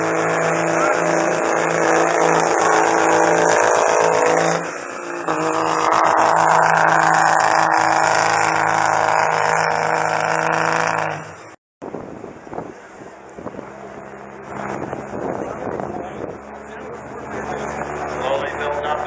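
A diesel truck at a truck pull revs hard, its engine roaring loud and sustained, briefly dipping before climbing again, then cutting out and resuming with a rougher, rattling drone.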